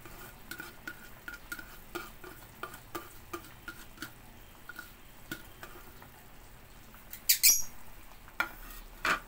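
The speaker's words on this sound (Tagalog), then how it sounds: "Haluin natin ng konti para lumubog ang mga leaves ng malunggay." Malunggay leaves stirred into simmering chicken soup with green papaya, a steady series of light scraping ticks from a spoon in the pot, then a louder clatter near the end.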